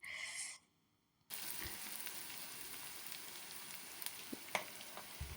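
Onions, green chillies and curry leaves fry in a pan with cumin seeds, salt and turmeric, giving a steady, close sizzle with a few soft pops, after a brief hiss and a short near-silent gap.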